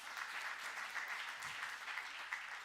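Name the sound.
audience applause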